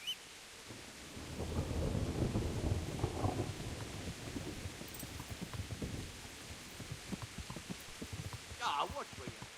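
Thunderstorm with heavy rain in the medieval video game Kingdom Come Deliverance, a low rolling rumble of thunder over steady hissing rain, with speech heard over it.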